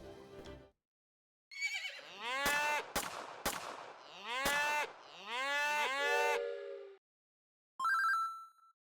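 Cows moo loudly in a video game, several long drawn-out calls in close succession separated by short gaps, followed by a brief ringing, bell-like tone near the end.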